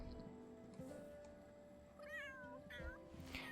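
A cat meows in The Sims 3, first with a few quiet, faint sounds and then two clear rising meows close together near the end, over a steady game background.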